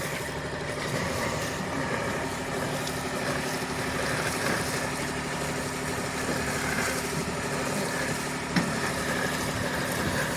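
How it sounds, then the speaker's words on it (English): A boat engine idles with a steady, low mechanical chug and vibration, continuous and fairly close, with no voices. "But engine's still running nicely."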